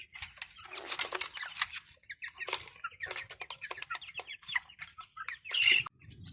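Australorp chicks moving about a new poultry setup, chirping and clucking in quick, overlapping bursts with some wing flapping, fairly close and soft, with no talk.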